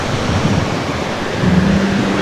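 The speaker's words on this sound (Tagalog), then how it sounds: "Lakas ng hangin, ang lakas ng hangin." Strong wind buffets the microphone during a bike ride on a bridge in the rainy season, a dense continuous rushing roar with a faint low hum partway through.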